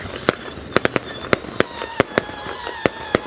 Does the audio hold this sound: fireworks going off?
yes